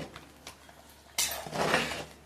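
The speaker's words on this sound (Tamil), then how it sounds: "நல்லா கிளறுங்க." A spoon stirs a cooking pot of boiling chicken biryani, a few quiet scrapes and light clinks of metal against metal, then a louder burst of scraping near the end, close and alone without talk.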